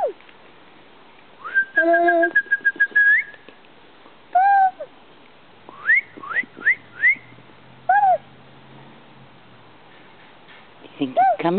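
A person whistles outdoors to call a cat, producing clusters of quick upward-sliding chirps and a held note, separated by quiet gaps, with faint rustling and low background sound.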